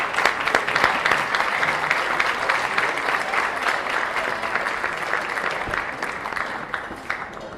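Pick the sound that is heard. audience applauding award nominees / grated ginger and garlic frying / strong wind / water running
audience applauding award nominees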